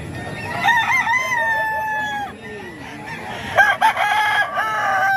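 A big nine-month-old rooster crows twice, loud and near: a long sustained call early on, then a second sharper burst later, with clucking fowl filling the gaps.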